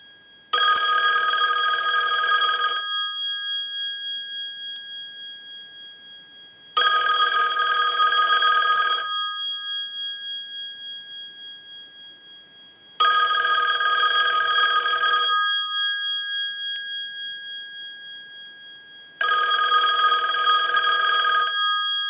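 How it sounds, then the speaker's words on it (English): A Bell South single-slot payphone bell rings in a test ring cycle, four loud metallic ringing bursts of about two seconds each, separated by roughly four seconds of silence, close and alone. "use the analyzer and send a ring cycle like you were getting a call"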